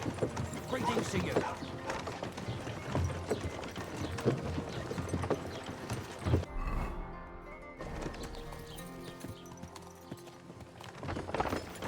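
Horse hooves clip-clop in a steady walking rhythm under game sounds and background music, with a short lull partway through.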